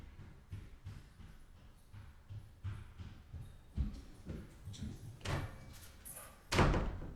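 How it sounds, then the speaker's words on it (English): A door in a home opens and closes with a few dull thuds and a firmer knock near the end, set against quiet room tone. "I heard the door open and then I heard."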